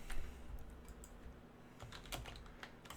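Typing on a Color Computer keyboard: quiet, irregular key clicks and clatter with short bursts and pauses, close by and fairly faint, no voices.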